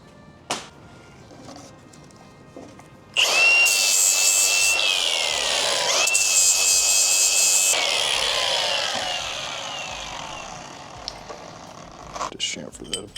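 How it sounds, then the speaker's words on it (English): A power tool grinds a chamfer onto the edge of a freshly cut metal piece for a Miata turbo manifold, a loud abrasive whine starting abruptly and running steadily for several seconds before fading away. "Just chamfer that a bit."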